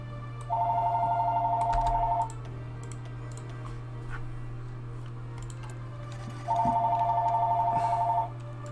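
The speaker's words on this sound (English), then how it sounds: "Oh, and let's hear a phone call" A telephone rings in the Hearts of Iron IV strategy game, two long trilling bursts separated by a pause, loud and clear over a steady low game hum with faint clicks.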